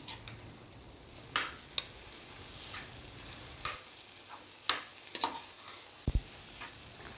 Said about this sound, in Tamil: இப்போ ஓப்பன் பண்ணி நல்லா கிளறி விட்டுக்கலாம்